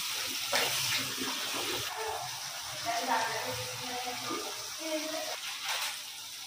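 Chopped fenugreek leaves are rinsed under a running tap, the water splashing and gurgling steadily close by while a voice talks over it.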